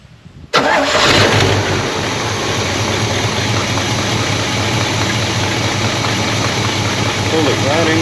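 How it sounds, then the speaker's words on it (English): Engine of a vehicle unused for 17 years cranking and catching abruptly after a quiet start, then running loud and steady at a rough idle, close up with a persistent rumble and no talking. "Alright, let's start it up."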